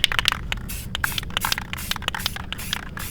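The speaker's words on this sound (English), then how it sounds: "We're gonna go ahead and spray this shit with some more clear coat" An aerosol can sprays clear coat onto smoke-tinted car headlights, a close, steady hiss broken by crackly spitting bursts throughout.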